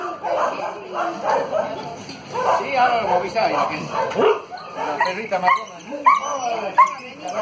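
A small brown dog whimpers and yips over and over in high, wavering cries, close and fairly loud, while someone talks to it warmly.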